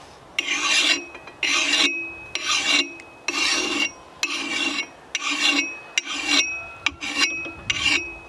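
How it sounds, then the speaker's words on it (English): Single-cut file rasping across a hard steel axe head, about a dozen regular back-and-forth strokes with short pauses between them, close and clear with no voices. "So now this file has a double cut and a single cut, so I'm going to use a single cut."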